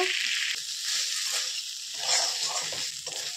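Pointed gourd tossed with fried shrimp in a pan gives off a steady close sizzle with intermittent stirring and scraping movements, moderately loud and without talking.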